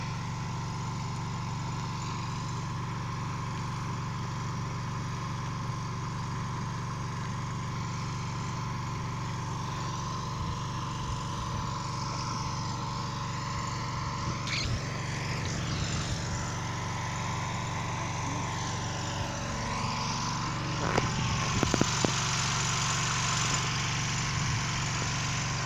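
A generator engine runs in a steady, low droning hum throughout, medium-distance and moderate in level, with a few faint scrapes and knocks over it near the end and no talk.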